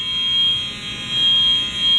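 A fire alarm goes off inside a building in Arkansas, sounding in every room: a continuous shrill, high electronic tone that stays loud and steady with slight swells in level, and no voices over it.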